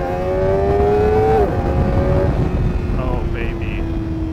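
A Kawasaki ZX-4RR fitted with a Yoshimura AT-2 exhaust holds a high rev, then drops and settles into a steady tone, loud and close, while a voice talks over part of it.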